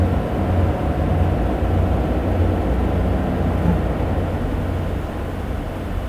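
Class 303 electric multiple unit braking in Train Simulator 2015, a steady low rumble of wheels and motors that stays constant and loud throughout, easing slightly toward the end.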